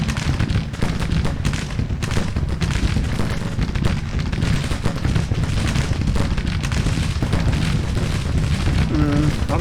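Brigade-strength long-range gunfire in the Civil War strategy game Grand Tactician, a dense, steady rumble of booms and crackling shots running throughout at constant loudness.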